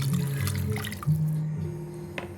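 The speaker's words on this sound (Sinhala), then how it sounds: "වතුර හොඳට අහක් කරන්න මේ" Water pours and trickles out of a pot of washed chicken pieces being drained for soup, a close, continuous splashing flow lasting a couple of seconds.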